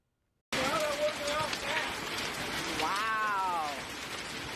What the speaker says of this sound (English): That would be hail